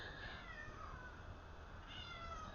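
A house cat meows in a drawn-out, plaintive way, with two faint cries separated by a short pause, heard alone in a quiet room.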